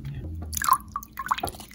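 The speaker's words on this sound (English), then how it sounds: "I'm gonna put a little bit more red water in this, a lot of water" Red water poured into a homemade bouncy ball mixture, giving a few close, wet drips and splashes in quick succession over a quiet background.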